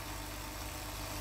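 A bipolar Bedini motor spins with a steady, dense whirring hum under load from an incandescent bulb, its speed sagging slightly, continuous and close with no voices.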